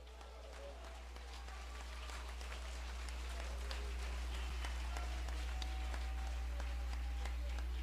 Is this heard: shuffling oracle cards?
no